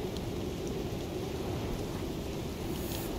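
Stormy weather in the survival game Icarus: a constant, even wash of rain with a low rumbling bed, steady and unbroken for a few seconds, with no voices.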